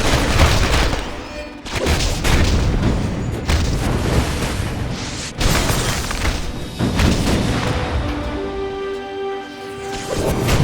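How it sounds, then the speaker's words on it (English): An RPG fired in Marvel Ultimate Alliance 2 brings loud, repeated booming blasts and rumbling explosions in quick succession, heavy and close, with a tonal game effect ringing toward the end. "RPG, ready to fire!"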